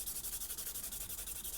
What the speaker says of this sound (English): let's pull out our good old sanding or file plate here